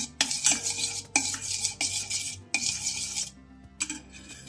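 Raw mango pulp is stirred for panha with a spoon scraping around a metal pot, several bursts of close, rhythmic clattering and scraping with short pauses between them.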